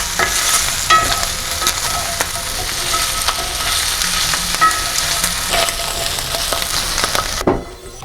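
Canola oil sizzles steadily in a hot pan as meat browns, a loud, dense, continuous frying hiss with occasional stirring clatter, then a quick drop in level near the end. No voices.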